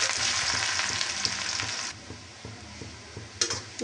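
Onion and garlic hit hot oil with dried red chili and fry, a loud crackling sizzle that drops to a quieter steady fizz after a couple of seconds, with scattered stirring clicks and a brief flare of spattering near the end.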